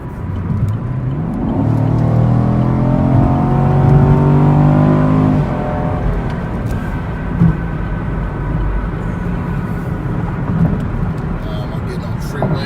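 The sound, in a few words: car accelerating onto a freeway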